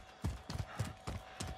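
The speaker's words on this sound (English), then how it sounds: "Why did I just hear footsteps by this building?" Footsteps near a building in Call of Duty Warzone, five evenly spaced heavy thuds in a steady walking rhythm, fairly close, with a faint constant tone underneath.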